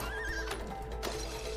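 A horse neighs in a video game, a whinnying call with a couple of rising bursts over steady background hum, moderately quiet and heard alone.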